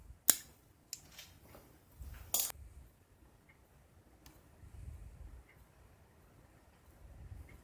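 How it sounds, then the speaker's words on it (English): Fuel line being trimmed to length while servicing the carburetor of a 2010 Poulan leaf blower, heard as three crisp snips spaced over a few seconds in an otherwise quiet setting. "I need to trim the length of the line."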